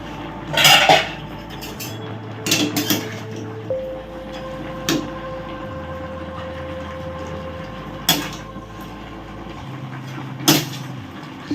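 Ivy gourd greens stirred together with boiled vegetables in a pot, with several distinct clanks and scrapes of a utensil against metal over a low steady background hum.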